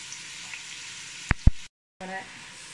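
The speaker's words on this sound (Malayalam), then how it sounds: "ഉള്ളികളൊക്കെ നന്നായിട്ട് ഇളക്കി കൊടുക്കാം." Small onions frying in a pan, a steady soft sizzle interrupted by a couple of sharp clacks from stirring and a brief dropout.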